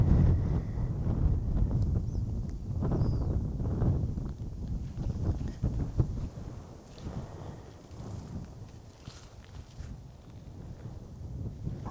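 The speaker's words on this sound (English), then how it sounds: "Man, this wind is no joke." Strong wind gusts outdoors at Jackson Hole, buffeting the microphone with loud, continuous rumbling that swells and eases over the whole stretch, with no talking.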